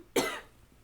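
A single sharp cough, close and fairly loud, followed by a short fading tail and quiet room tone.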